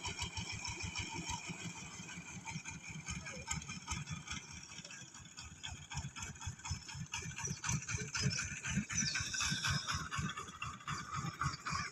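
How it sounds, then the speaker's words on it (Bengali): Motor boats on a river near a landing ghat, one passing and another approaching; a chugging engine with a fast, steady put-put rhythm holds throughout, growing somewhat louder toward the end. "একটা নৌকা গেল আর একটা নৌকা আসতেছে"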